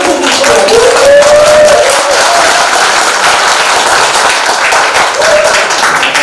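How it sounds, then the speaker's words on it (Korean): Audience applause at a Lions Club president inauguration ceremony in Hamyang, a steady dense wash of clapping lasting several seconds with faint voices mixed in. "박수 한번 쳐주시고요."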